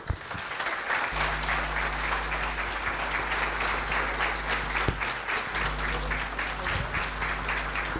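An audience at a radio station's anniversary event and book launch in Misiones applauds an honoured businesswoman. The clapping is dense and steady, fairly close, with a constant electrical hum beneath it.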